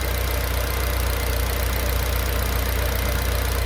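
A Honda Civic FD2 engine idles with the hood open, its steady drone carrying a fast, even ticking from noisy valves, heard close and alone.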